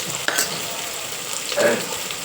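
Shredded cabbage and potatoes fry in a pan with mustard seeds, turmeric and salt, giving a steady close sizzle broken by two brief scraping stirs.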